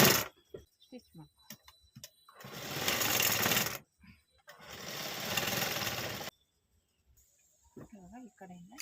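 A sewing machine stitching pieces of old cloth runs in two steady, buzzing bursts of a few seconds each, with someone talking in the pauses before, between and after them.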